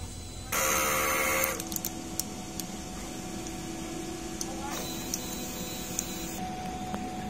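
A DTF printer running a strong head clean whirs loudly for a few seconds, then settles into a steady mechanical hum with faint clicks and motor whines.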